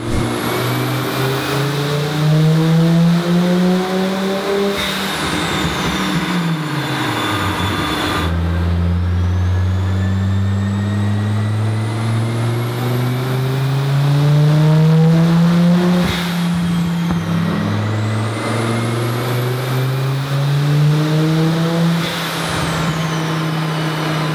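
An Audi Urquattro with a 20V turbo engine, running about 500 hp on a 95-octane tune, revs hard through repeated rising pulls and gear shifts. Its loud, close exhaust note climbs, drops and climbs again.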